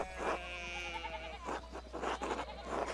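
Sheep bleat repeatedly in the video game Pentiment, several wavering cries over a steady low hum and background game ambience, loud and close.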